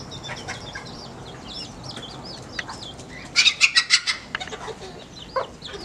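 A bantam hen clucking near her chicks on a farm, with rapid close clucks in a short loud burst, while high thin peeping from the chicks runs throughout.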